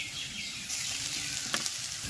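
Onions fry in a pan for a gourd-leaf bharta, a soft, steady close sizzle that swells slightly partway through, with a couple of brief utensil scrapes and no voices.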